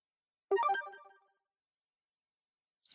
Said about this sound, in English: you can select a sound that will pre-warn you that the alert has been triggered and the alarm will soon sound.